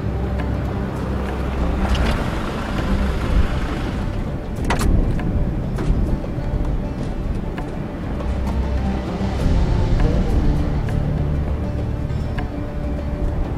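A car from the Ninja Gaiden 3 video game cutscene drives along with a steady, loud low engine and road rumble, a dense broadband whoosh like wind noise throughout, and a brief sharper burst midway.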